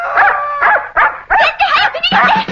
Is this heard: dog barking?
yes